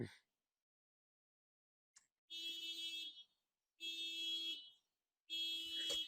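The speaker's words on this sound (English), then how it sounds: "Did I hit the panic alarm on accident?" A car panic alarm blares in loud, steady bursts, three long pulses separated by short gaps, after a brief silence, with no one talking over it.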